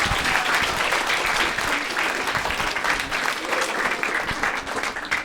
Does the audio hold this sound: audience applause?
yes